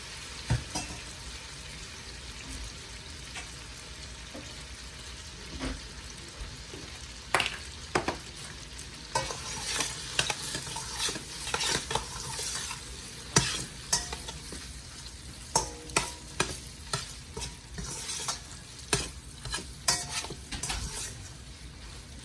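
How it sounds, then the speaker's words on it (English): Noodles go into a pan of hot olive oil and are stirred, a low sizzle under repeated scraping and clinking of a utensil against the pan, growing busier in the second half. "Pour my noodles in."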